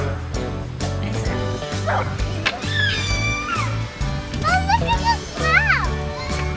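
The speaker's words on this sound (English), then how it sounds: "It's a dog." A dog barks repeatedly in a park on a chilly autumn day, sharp close yips and woofs mixed with a few whimpers, while children talk and play over and around the barking.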